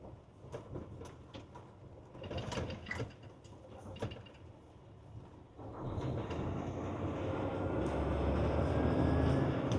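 A GO commuter train passing through busy downtown Toronto traffic, a steady rumble building from about the halfway point and growing louder toward the end, after quieter mixed street noise.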